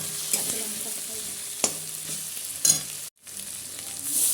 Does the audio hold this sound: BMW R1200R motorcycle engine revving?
no